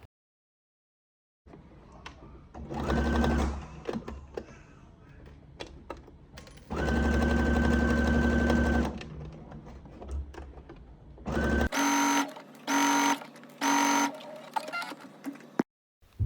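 Sewing machine stitching a pocket for a tennis bag, running in several steady whirring bursts of a few seconds each, then a series of short, evenly spaced runs, close and loud.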